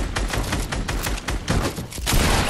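Rapid bursts of gunfire in the Fortnite video game, late-game arena mode, crackle loudly and close in dense overlapping volleys with brief gaps.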